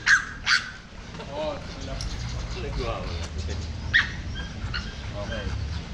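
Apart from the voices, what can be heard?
dog barking and whimpering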